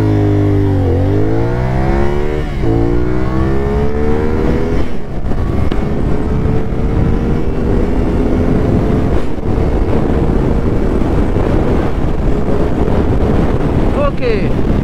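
A CFMOTO 450SR sport motorcycle launches hard, its engine note climbing through two or three quick upshifts before settling into a loud, steady high-speed drone buried under heavy wind buffeting on the microphone.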